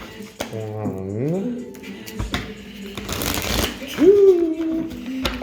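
Playing cards riffled and shuffled close by, with crisp bursts of flutter, while someone speaks and sings in between.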